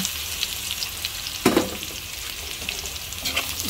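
Chopped chayote hits a pan of sautéing tomato for ginisang sayote, a loud burst of sizzling at the drop that settles into a close, steady frying crackle with light stirring.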